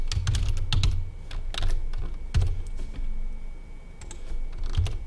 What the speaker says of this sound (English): I will type some of them